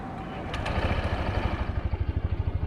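A Honda PCX160 scooter engine starting up close, a short whirring crank that settles into a smooth, steady idle with even rhythmic pulses.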